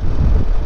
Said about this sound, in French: Il y a un vent pas possible.